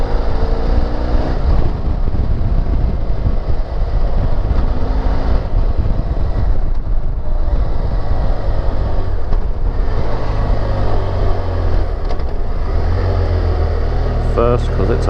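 A BMW F 800 GS motorcycle rides in fourth gear at around 60, its engine a constant loud rumble buried under heavy wind buffeting on the microphone for the whole stretch.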